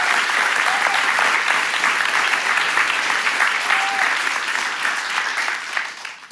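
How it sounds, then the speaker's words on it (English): A large audience at the Junction 2023 hackathon closing ceremony applauds the challenge winners with sustained, full clapping that holds steady for several seconds and then begins to thin toward the end. "Give them a huge round of applause"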